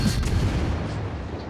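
Heavy naval gun salvos and booming shellfire in a World of Warships battle against the Soviet cruiser Smolensk, a dense continuous rumble of cannon blasts filling the clip with no talk.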